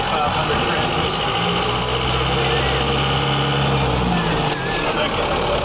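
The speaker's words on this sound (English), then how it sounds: "That's first gear, just to show you how slow it is on the new Venture 4500 transmission" A Chevrolet Blazer with a Venture 4500 transmission pulls away slowly in first gear, its engine a steady low rumble with whining drivetrain overtones that hold level throughout, close and loud.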